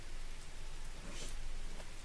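Steady rain hisses in the Derail Valley train simulator game, a dense, even wash of falling drops with no break and no voices over it.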